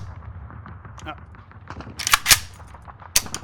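A few sharp gunshots ring out in a video game, sparse bursts at first, then a sudden cluster of loud cracks, heard over background game audio.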